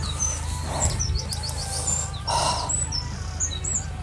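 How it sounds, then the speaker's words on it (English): A bird sings outdoors with short whistled chirps and tweets, fairly close and clear, repeating over a soft, steady background rumble. "Bird."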